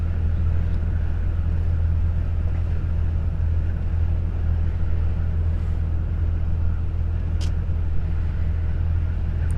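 Steady low road rumble from a car cabin while driving downhill on a long snowy trip through Poland toward Czechia, a continuous loud drone with a brief faint click near the end and no talk.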